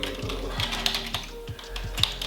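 Keystrokes on a computer keyboard while entering a search into a simple app, a quick run of light clicks and taps at close range with a steady hum underneath and no talk.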